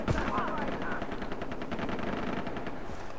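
Rapid bursts of automatic gunfire rattle in the Far Cry 3 video game, steady and continuous for several seconds under a faint game soundscape, with no talking.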